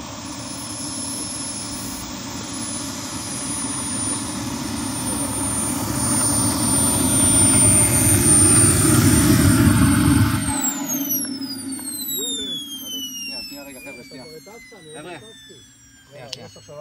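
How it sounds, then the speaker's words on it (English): A Top RC model L-39 Albatros jet on its maiden flight roars overhead, its turbine rising to a loud rushing peak, then cutting off into a fading high whine, with people talking nearby. "this was the maiden flight of the Top RC model uh, L39 Albatros"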